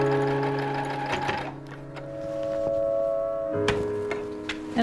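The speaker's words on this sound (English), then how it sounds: "Just kind of needs to be sewn together." A sewing machine stitches a dress together, its needle running in steady mechanical bursts with brief pauses and restarts, close and clear with no talking.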